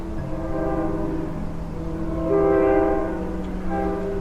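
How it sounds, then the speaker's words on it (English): A train on Cape Cod rumbles along with a long, droning horn blast that swells midway, heard from a distance with no voices. "Not sure if you can hear the train in the distance."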